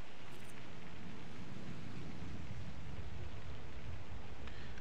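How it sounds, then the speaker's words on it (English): Steady rain hiss fills the scene in the airport management game Sim Airport, a constant wash of noise with no voices over it. "People walking out in the rain boarding their plane."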